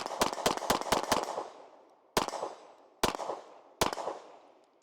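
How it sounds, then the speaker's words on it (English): Nighthawk Sandhawk single-stack pistol firing: a quick string of about six sharp shots, then three more spaced single shots, each loud and close with a decaying echo. "Let's go ahead and take some more shots."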